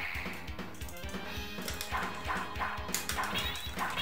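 A dog character in the Sengoku Neo Geo arcade game gives several short, repeated barks and yips over continuous game music and effects.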